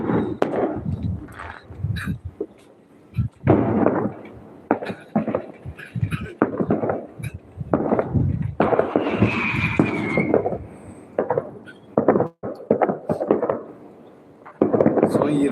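Repeated fireworks bangs and crackles, some sharp and close, others duller and distant, scattered irregularly with people talking and a brief whistling rise midway.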